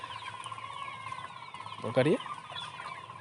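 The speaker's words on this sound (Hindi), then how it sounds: "इसमें एक और कलरफुल मुर्गी आता है।" Colourful desi hens being handled on a small poultry farm give a brief burst of clucking mid-clip, set against a steady background hum with someone speaking nearby.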